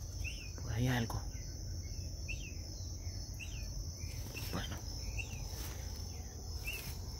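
Crickets chirp steadily in a jungle ravine, a continuous high insect trill running through the whole stretch alongside scattered bird calls, with a brief voice in the background near the start.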